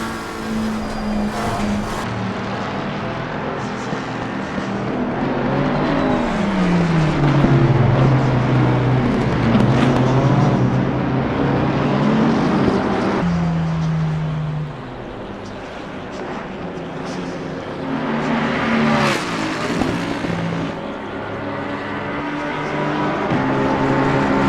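Race cars lapping Suzuka in a racing video game, engines whining and rising and falling in pitch through gear changes, loud and continuous with overlapping cars close by.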